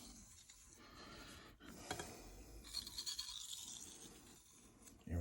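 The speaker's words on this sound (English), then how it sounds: "I'm lightening my strokes up as far as the pressure a little bit at a time as I strop" A knife is stropped on a Shapton Rockstar 1000 whetstone with light, fast strokes, giving quiet repeated rasping scrapes in an irregular rhythm, close and faint, with no talking.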